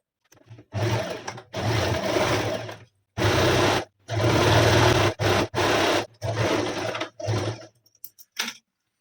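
A sewing machine stitches a heavy-size palazzo in several loud, close bursts of varying length, separated by short pauses as the fabric is repositioned.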